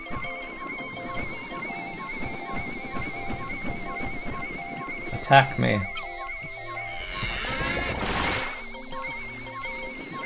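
Impediment Scourge creature in Pikmin 2 lets out odd bellowing, lowing calls with a sharp crash partway, heard over game music while a person talks throughout.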